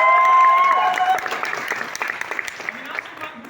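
Audience applause in honour of a guru, broad clapping at a gathering, loud at first and then thinning into scattered claps, with a voice speaking over it.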